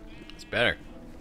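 A sheep in Minecraft Dungeons gives a single short, wavering bleat of about a quarter second, clear and close, rising out of quiet game ambience with no talk over it.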